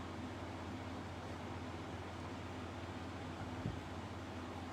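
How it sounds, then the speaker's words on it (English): An air conditioner runs steadily indoors, a constant broadband hum and hiss with a low tonal drone underneath, even and unchanging with no talking. "I hear the air conditioner running."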